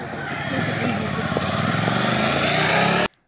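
A motorcycle engine drones past at a busy intersection, loud and steady for about three seconds before cutting off abruptly, with a voice talking over it.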